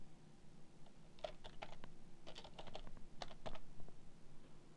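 Typing on a computer keyboard while renaming a file in video editing software, with irregular bursts of quick clicking keystrokes, close and moderately loud over a low steady hum.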